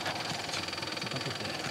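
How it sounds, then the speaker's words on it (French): The electric motor of a Peugeot 3008 GT gives off a faint, steady mechanical whir with a fine rapid pulsing, heard up close with no talking. "Il y a un petit bruit de moteur."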